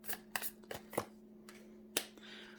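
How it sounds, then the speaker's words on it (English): Tarot cards being shuffled by hand during a love reading, a few crisp riffling bursts and soft flicks spaced out over a couple of seconds, close and fairly quiet with no talk. "I saw this card when I was shuffling and I was like"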